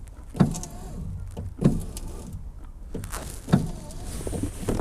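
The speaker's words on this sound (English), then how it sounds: "I can hear the motor trying." A car's electric window motor strains and fails to work properly, with three short whirring bursts repeating about every second and a half, close by, over low background noise.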